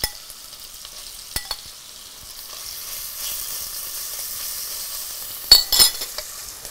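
Chicken pieces frying in oil in a pot, a steady soft sizzle under occasional clinks and scrapes of a spoon stirring, with a louder clatter near the end.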